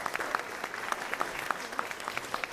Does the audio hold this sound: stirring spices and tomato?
no